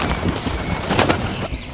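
Birds call and coo faintly from their nests over a steady wash of rain.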